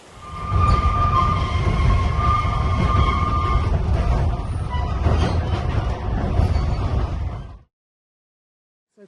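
A train runs along a railway line, its loud steady rumble and rattling wagons filling most of the stretch before it cuts off abruptly near the end.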